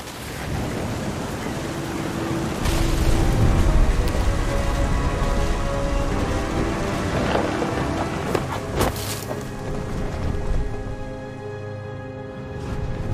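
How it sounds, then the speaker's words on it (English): Thunder and heavy rain in What Remains of Edith Finch: a steady loud downpour with a deep rumbling roll building early on, then sharper cracks and gusty bursts as the storm continues, with no voices. "The thunder sounded much too close and full of angry power."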